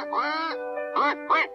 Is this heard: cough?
no